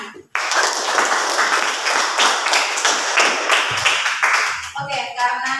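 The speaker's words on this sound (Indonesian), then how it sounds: "tepuk tangan." A classroom full of students claps together in a burst of lively applause lasting several seconds, fading near the end as a voice starts speaking.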